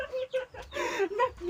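Chicken clucking close by, a series of short throaty calls that come in quick bursts with brief gaps between them.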